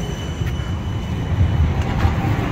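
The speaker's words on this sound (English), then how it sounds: "Trams!" A tram passing on an Amsterdam street, a steady loud rumble with rail hum and faint squeal, continuous and close throughout, with no talking.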